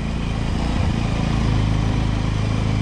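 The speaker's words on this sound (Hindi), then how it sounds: "वापस से बाइक स्टार्ट हो गई है" A Bajaj Pulsar 200NS motorcycle engine runs steadily after being restarted on a mountain ride, a continuous close, loud idle with a throbbing low rumble and no talk over it.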